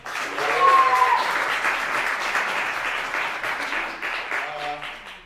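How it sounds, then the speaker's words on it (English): Audience applause at a show honoring Peter Gordon, moderately loud clapping that swells early and gradually eases, with some voices and music tones mixed in. "One more round of applause for Peter Gordon's future."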